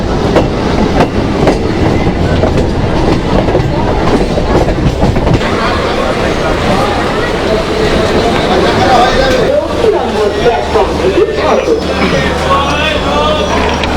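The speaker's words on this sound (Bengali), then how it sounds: "ট্রেনটি এখন বালিগঞ্জ স্টেশনে এসে দাঁড়ালো।" Local train on the south section between Ballygunge and Sealdah in Kolkata, rolling on its rails with steady, loud clickety-clack and rumbling wagon noise. Busy, dense sound throughout, with faint passenger chatter underneath.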